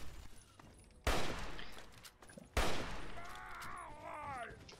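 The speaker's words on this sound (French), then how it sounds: "j'ai cru entendre un minigun" Fallout 3 gameplay with a minigun firing: two sudden bursts of loud sustained gunfire roughly a second and a half apart, each rolling on with a roaring tail while other game sounds warble underneath.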